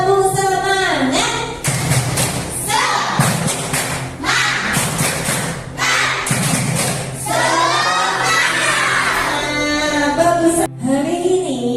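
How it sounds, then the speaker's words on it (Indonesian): A school class doing a rhythmic spirit clap, loud group clapping in patterned bursts mixed with children's chanting and shouted voices, close and energetic throughout. "kita melakukan tepuk semangat terlebih dahulu"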